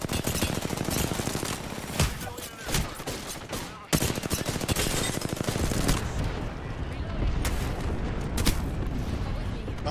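Rapid automatic gunfire and bursts of shots from a firefight in the battle-royale video game Apex Legends, loud and nearly continuous with brief pauses, while players talk over the action.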